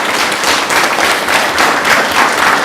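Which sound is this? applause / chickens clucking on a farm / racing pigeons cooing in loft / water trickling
applause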